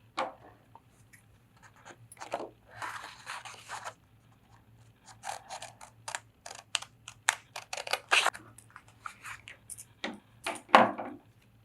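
Scissors snipping paper hovercraft template pieces, a series of short crisp cuts and rustles at close range, irregular in rhythm, with no voices.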